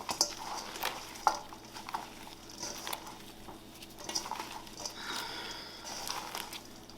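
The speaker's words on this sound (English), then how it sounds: "So I'm just crumbling up this cornbread." Hands crumbling cornbread in a home kitchen, a soft continuous crumbly rustle and patter with a few light taps, close and fairly quiet, no talking.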